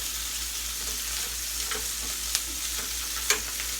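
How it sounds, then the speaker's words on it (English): Steady, dense sizzle of food frying in a hot pot, a broad continuous crackle with a couple of sharp pops and faint stirring clicks, close up and with no voices. "Hear that sizzle? That means that pot is nice and hot."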